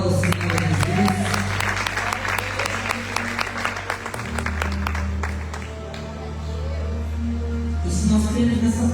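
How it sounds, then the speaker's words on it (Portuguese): A church congregation at a Brazilian evangelical miracle crusade applauds in praise, dense clapping over a sustained organ or keyboard drone, fading toward the end as music continues. "Se você crê nisso, aplauda ao Senhor Jesus."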